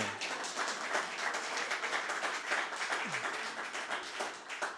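An audience claps throughout a stand-up comedy club show, a dense, even patter of many hands at moderate distance, sustained without pause.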